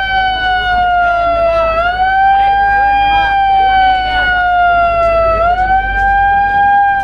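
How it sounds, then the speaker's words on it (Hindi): A train siren sounds as a special train departs a rural village station, a loud sustained two-tone wail with slight pitch shifts lasting throughout, over crowd noise and low rumble. "सायरन बज चुका है।"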